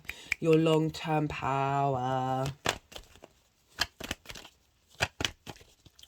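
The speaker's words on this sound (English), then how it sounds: "I'm going to shuffle a little bit longer." Tarot cards are shuffled in short crisp riffling bursts that follow a sung phrase, the snaps coming close and irregular with quiet gaps between them.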